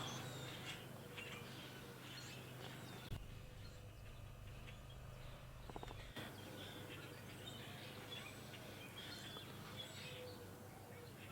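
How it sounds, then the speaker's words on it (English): Birds call and chirp from a tree at a distance, scattered faint tweets over a steady outdoor hum, with quiet voices briefly audible. "Plenty of birds in this tree today."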